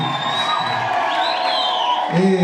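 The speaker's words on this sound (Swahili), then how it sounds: "Piga makofi na vigelegele vya kutosha basi." A church congregation at a PEFA church launch celebration raises a steady wash of cheering, with high warbling ululation rising above the crowd noise and brief whoops near the end.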